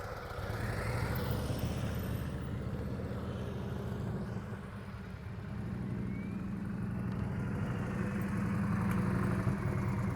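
A motorcycle engine idles and rolls along at a steady low, even speed during advanced slow-speed riding practice, a continuous mid-level rumble with no talking over it.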